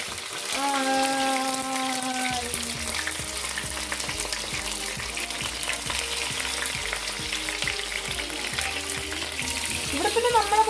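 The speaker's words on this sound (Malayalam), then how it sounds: "അമ്മ നമ്മുടെ കരിയാപ്പില കുട്ടന്മാരെയൊക്കെ ഇട്ട് കൊടുക്കുന്നുണ്ട്" Curry leaves hit hot oil in a pan on an electric stove and fry with a loud, crackling sizzle that carries on with scattered pops, close and steady throughout.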